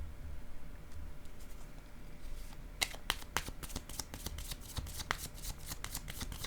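A deck of tarot cards is shuffled by hand in a quiet room, starting softly and then breaking into a run of crisp, rapid riffles and card snaps, close and alone.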